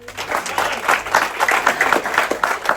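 An audience applauds steadily during crew introductions aboard the ship Amadeus, a dense, continuous wash of clapping that holds at a fairly loud level throughout.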